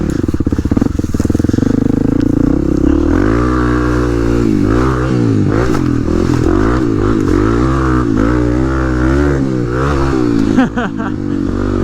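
A dirt bike rips across cold ground, its engine revving up and down in repeated loud surges and gear changes, close and continuous, with a sharp clatter near the end.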